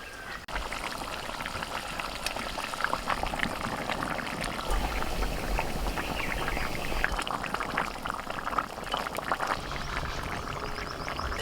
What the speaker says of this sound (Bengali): গ্রেভিটা ফুটছে